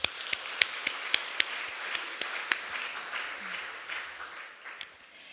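A church congregation at a praise service claps together, a brisk run of sharp claps that softens into a looser, quieter patter over a few seconds.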